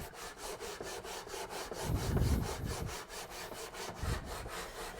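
Wooden sword filed by hand with steady back-and-forth rasping strokes in a regular rhythm, close and fairly quiet, with a few heavier scrapes and no talk.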